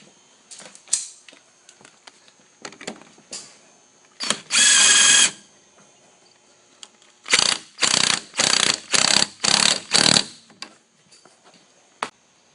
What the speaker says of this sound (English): Put the nut back on.